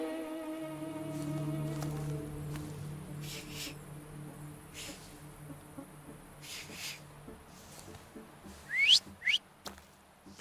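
Whistling in The Thaumaturge video game: a couple of short, sharp rising whistles near the end, following a stretch of low tonal background music and quiet ambience.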